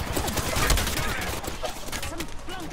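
Video game gunfire crackles in rapid, dense bursts under players talking over each other, steady and fairly loud throughout.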